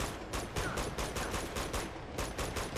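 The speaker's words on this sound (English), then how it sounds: "Shotguns can shoot more than, like, 3 centimeters" Gunfire in the Uncharted 2 video game, shotguns among the weapons, comes as a rapid, evenly spaced string of loud sharp shots with brief gaps.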